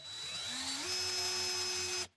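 Power drill spinning a sharp bit through a hole, its motor whine rising in pitch as it spins up, then holding a steady tone before cutting off abruptly.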